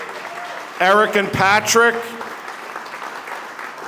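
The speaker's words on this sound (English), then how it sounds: "Give them all a round of applause." An audience at a town spring fundraiser applauds, a soft wash of clapping that runs under a man announcing names and continues briefly once he stops.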